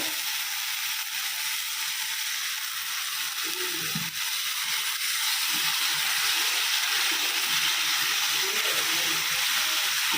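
Water poured onto spicy masala frying in a pan for doi katla fish curry: a loud, even hiss runs unbroken for the whole stretch, close by and with no voices.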